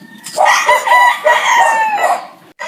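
At a game farm in Guagua, Pampanga, a rooster crows loudly and close by in a long, wavering call, mixed with overlapping clucks from chickens. It ends briefly before another sound begins.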